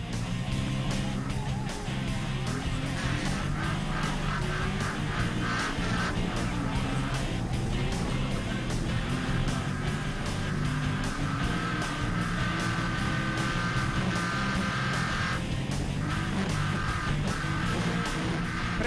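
Category B autocross cars in Costa Rica, naturally aspirated without nitro or turbo, roar continuously around the track during a race battle, loud engine drone with shifting revs throughout.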